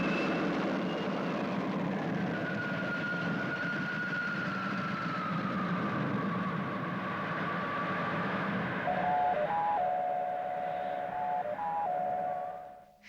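Spaceship liftoff effect from the 1962 puppet series Space Patrol: a sustained, droning mechanical roar with a slowly gliding whine, joined near the end by electronic beeping tones before it cuts off.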